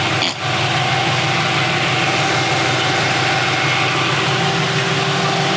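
A car with a swapped-in 5.7-litre LS1 V8, Z06 cam, 799 heads and 3-inch Hooker headers idles steadily with a low, even rumble and slight vibration, continuous throughout after a brief dip at the start.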